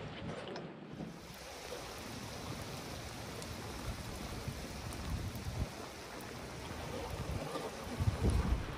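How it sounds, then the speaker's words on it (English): Rain falls steadily around a small fishing boat on open water, a dense, even hiss of drops on the surface and hull, growing slightly rougher toward the end, with no voices. "I already got a shower from the rain"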